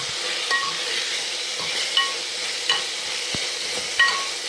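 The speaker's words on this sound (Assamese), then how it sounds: "মচুৰ দালিখিনি দিয়াৰ পিছতো অকণমান দেৰি ভাজি ল'ব লাগে।" Red lentils fry with salt and turmeric in a pan under a soft, steady sizzle, broken by a few sharp spoon taps and scrapes at irregular intervals, close by and without speech.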